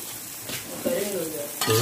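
Tofu being stir-fried in a pan over lowered heat in a boarding-school kitchen gives a steady sizzle with scraping stirs, close and moderately loud, briefly with a voice over it.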